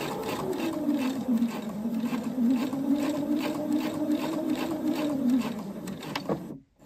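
A sewing machine stitches a homemade net, a close, steady rapid mechanical whir with regular rhythmic clicks that stops suddenly at the end.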